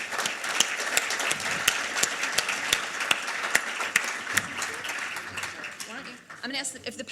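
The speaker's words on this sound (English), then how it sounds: "I want us all to give a round of applause to the panel." An audience applauds a panel at the close of an education discussion, with dense clapping and sharp individual claps standing out; the applause thins toward the end as a voice starts to talk.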